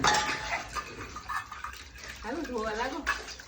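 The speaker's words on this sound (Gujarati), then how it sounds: "બે વાસણ ધોવે છે" Water splashes and dishes clink during washing up, with people talking over the clatter.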